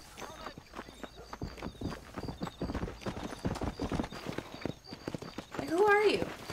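A horse in the Western video game Red Dead Redemption walks with steady clip-clop hooves, then lets out a loud whinny near the end, while a voice talks intermittently over the hoofbeats.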